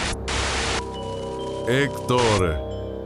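Harsh radio static in loud hissing bursts, breaking off and returning, with brief voice-like warbles cutting through near the end.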